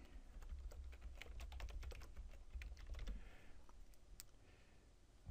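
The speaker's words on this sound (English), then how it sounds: "and just start typing." Typing on a computer keyboard while adding a document description, a quick irregular run of soft key clicks with short pauses, close and fairly quiet.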